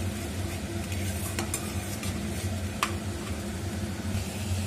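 Katla fish curry with beaten yogurt stirring in a pan, a steady low sizzle with a few soft scrapes and light clinks of the spoon, close, no voices.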